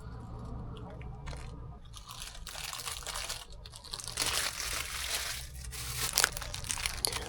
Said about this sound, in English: Taking a big bite of the sausage bun.